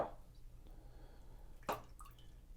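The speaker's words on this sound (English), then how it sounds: "let's drain the water, or take the case out here" Water drips and squishes out of a Lifeproof FRĒ waterproof case for iPhone X after a long soak, with a couple of brief wet splashes over a faint, quiet background.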